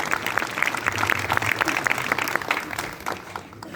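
An audience at a morning political meeting in a large hall applauds, a dense, steady clatter of many hands that eases off slightly toward the end.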